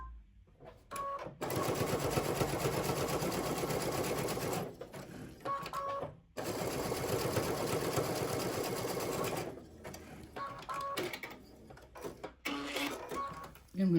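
Sewing machine stitching a zigzag seam on a plain holiday stocking with store-bought cotton fabric, running in two long steady bursts with short pauses and softer handling noises between.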